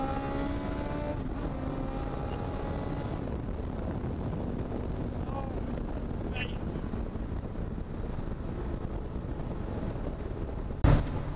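MK Indy Sport 200 kit car with a Suzuki Hayabusa motorcycle engine pulling away, engine note rising in pitch through the revs at close range, heavy wind buffeting and road rumble underneath, ending with a sharp bump.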